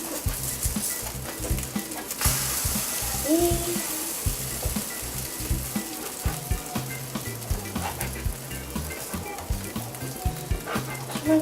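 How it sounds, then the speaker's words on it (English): A thin sour cream pancake sizzles in a hot pan with a steady frying hiss, while low rhythmic thumps and scattered clicks and scrapes run underneath. "First pancake is ready to cook."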